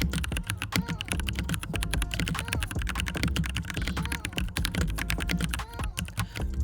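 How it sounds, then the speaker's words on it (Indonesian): Rapid, steady typing on a Rexus Daxa M64 keyboard fitted with Jwick T1 tactile switches, a dense close-up stream of crisp clacking keystrokes with no pauses. "Kebetulan yang kita pegang kali ini menggunakan switch Jwick T1 dengan feel tactile yang nyaman serta diiringi karakter suara yang renyah bray."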